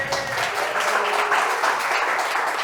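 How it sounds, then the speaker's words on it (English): A live audience at a community crypto event gives a dense, steady round of applause, loud and sustained throughout without pause. "That was so much better than the first round of applause, too."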